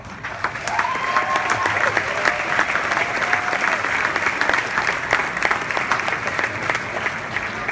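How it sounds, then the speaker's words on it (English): Convention audience at a Monster Mania fan event applauding actor Malcolm McDowell, a steady sustained wash of many hands clapping that holds at an even level throughout, with a few whoops and voices mixed into the crowd. "please a big round of applause for Mr. Malcolm McDowell"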